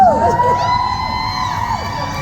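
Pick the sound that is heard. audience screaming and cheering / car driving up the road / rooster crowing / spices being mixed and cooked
audience screaming and cheering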